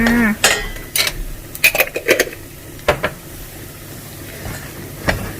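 A metal spatula scrapes and clatters against a pan during stir-frying, with irregular sharp knocks and scrapes bunched in the first three seconds over a faint background sizzle, then sparser strikes toward the end.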